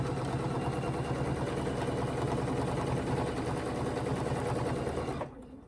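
Sewing machine running steadily for ruler-work quilting on a quilt block, a loud, continuous mechanical whir that holds for about five seconds and then stops abruptly.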